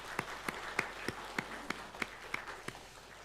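A church congregation at a Sunday service claps to welcome a new choir member. The claps fall in a steady, evenly spaced rhythm at roughly three per second, soft and somewhat distant over a quiet room murmur.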